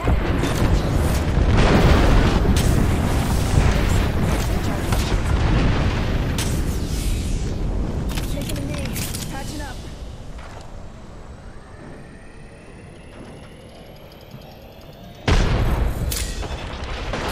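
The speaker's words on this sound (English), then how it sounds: "Airstrike." Airstrike explosions in Apex Legends, a heavy opening barrage of booms and blasts that fades into scattered distant rumbles before one sharp loud burst near the end.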